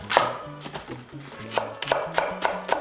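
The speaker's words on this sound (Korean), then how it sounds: "송송 다져줍니다" A knife chops green onion finely on a cutting board, about eight quick, crisp taps in an uneven rhythm, close and moderately loud, over a soft low tonal background.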